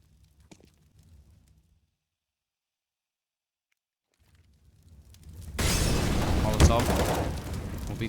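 Counter-Strike rifle fire sprays through smoke on the map Cache, a loud burst of rapid shots erupting after near silence and faint sounds, with a commentator talking over the shooting.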